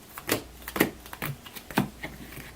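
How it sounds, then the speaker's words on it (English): Small batches of Hero Realms game cards are shuffled by hand, giving a series of short crisp riffling snaps at irregular intervals, close and moderately loud. "These are going to be 2 or 3 card shuffles that I'm doing now"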